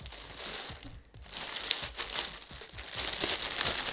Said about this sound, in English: I'm going to take this out of the packaging